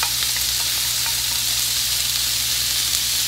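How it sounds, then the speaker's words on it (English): Chickpea curry sizzling in a pan as fresh coconut milk goes in, a steady loud hiss of frying that holds evenly throughout. "so now what I'm gonna add is my coconut milk"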